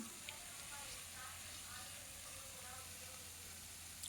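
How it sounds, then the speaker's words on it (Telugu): Maida and wheat biscuits deep-frying in hot oil until golden, giving a steady, continuous close-up sizzle with no breaks. "ఇలా అన్నీ వేయించుకొని గోల్డెన్ కలర్ వచ్చేట్టుగా వేయించుకోవాలి"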